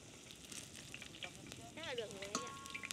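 Tofu frying golden in a pan gives off a steady, quiet crackling sizzle throughout, with a voice briefly talking over it partway through.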